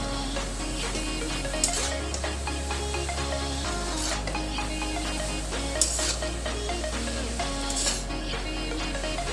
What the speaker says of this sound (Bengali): মশলার সাথে বাঁধাকপিটাকে খুব ভালো করে মিশিয়ে নেব